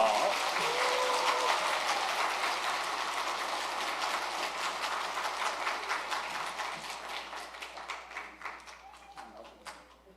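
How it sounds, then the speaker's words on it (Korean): Congregation applauding in a church to welcome a guest for a testimony, a dense sustained patter of many hands that gradually thins and fades toward the end, with faint voices underneath. "박수로 맞이해 주세요"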